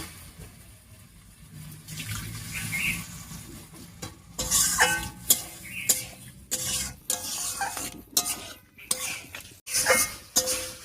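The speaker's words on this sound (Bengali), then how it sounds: "মশলা বাটা জল দিয়ে বেশ খানিকটা সময় নিয়ে মশলাটা কষিয়ে নিয়েছি সব সবজির সঙ্গে।" Ground spice paste with water being stirred into mixed vegetables in a pan for a shrimp curry, with busy clattering and scraping of a spoon against metal over a soft sizzle, growing louder and choppier toward the end.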